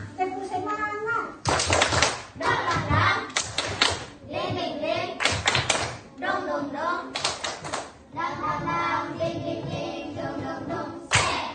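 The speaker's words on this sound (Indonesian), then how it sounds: "Nah, tepuk semangat." Schoolchildren in a classroom perform the tepuk semangat clapping chant, bursts of unison hand claps alternating with shouted chanting voices in a lively rhythmic pattern.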